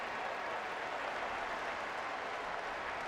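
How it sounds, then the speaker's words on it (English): A Byrd Stadium crowd applauds the Maryland Terrapins football team heading off at halftime against Clemson in 2011, a dense, even roar of distant clapping and cheering, steady and without speech. "they get a nice round of applause from this Byrd Stadium crowd"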